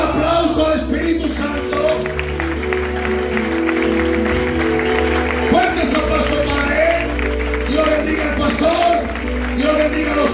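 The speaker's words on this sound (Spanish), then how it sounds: "Un aplauso al Espíritu Santo." A church congregation claps in a dense, continuous burst that swells and dips across the whole stretch, mixed with crowd voices and music in the background.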